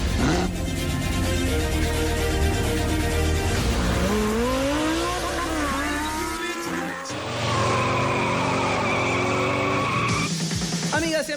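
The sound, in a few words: race car engines and tire skids, radio show intro effect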